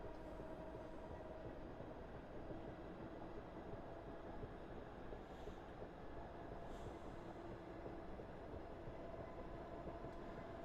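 A South London network train runs in a train simulator game, a faint, steady rumble of wheels and motors droning throughout without talk.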